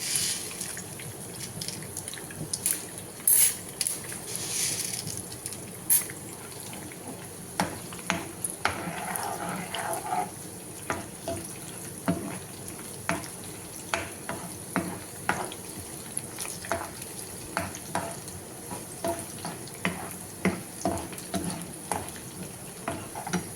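Chana dal frying in an oily pan for tomato pickle crackles with a steady sizzle while a spatula scrapes and stirs in regular close strokes, the sizzle continuous beneath the repeated stirring.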